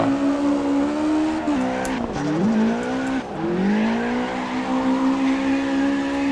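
A GT3 car drifting in the CarX Drift Racing game, a loud, continuous engine drone with sweeping pitch changes and squealing tires as it slides, close and uninterrupted with no speech.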